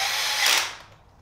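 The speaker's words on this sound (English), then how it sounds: "it's best if the first time you do this, you have a drill" A power drill drives screws into an adjustable lever belt, giving a brief, close, high-pitched whir that swells and then winds down as the motor stops.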